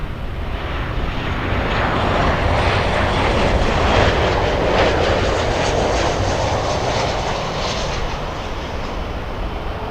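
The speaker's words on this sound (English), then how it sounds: "We're looking at Delta's 866, a 2-hour, 33-minute flight, landing 20 minutes early." A Delta passenger jet lands at Miami International Airport, its engines a steady, loud broadband roar that swells slightly mid-clip and holds for ten seconds, with no talk.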